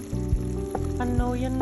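Meat fries with salt, chili powder, cumin and turmeric in a pan for haleem, a close, continuous sizzle with clunks of stirring and a low background hum.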